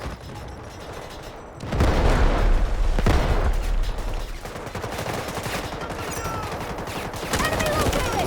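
Loud combat in the video game Delta Force: a heavy explosion followed by bursts of rapid gunfire and further blasts, dense and continuous.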